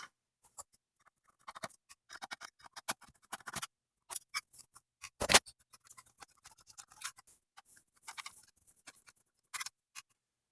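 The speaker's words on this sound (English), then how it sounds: "We'll take out those screws." Screws being removed from the board of a Panasonic DMR-ES40V DVD combo deck, a sparse series of small close clicks, ticks and scrapes from the screwdriver, with brief pauses between.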